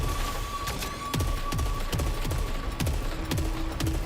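Rapid-fire weapon shots in the video game Saros, a regular series of punchy blasts roughly every half second over a steady dense background hum.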